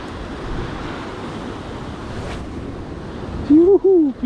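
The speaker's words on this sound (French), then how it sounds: "Ça souffle, j'espère que ça gênera pas le son de la caméra." Wind gusting into a camera microphone on a seashore during sea lure fishing, a steady blustery rumble with surf washing underneath, ending in a couple of louder buffeting bursts.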